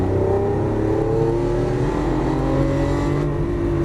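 A Lamborghini Aventador LP700-4 engine pulls loud and steady on a track, its tone rising smoothly in pitch as it accelerates, close and continuous with no talk.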